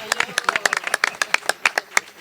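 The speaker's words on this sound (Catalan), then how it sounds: "us demanaria un fort aplaudiment pels cantants i els acompanyants" Festival audience in Gràcia clapping for the singers and accompanists, a brief burst of sharp, irregular handclaps from a modest crowd, fairly close and steady throughout.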